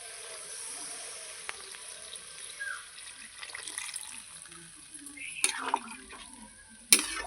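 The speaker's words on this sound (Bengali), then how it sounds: "জল দিয়ে দেবো" Water is poured into a pan of fried spice paste for a bhetki fish head curry, a soft splashing and sizzle with a sharper pour near the end, heard close in a home kitchen.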